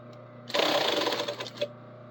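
A sewing machine stitches and backstitches a short segment of a bodice seam in one quick, close, rapid burst of mechanical chatter lasting just over a second, then stops.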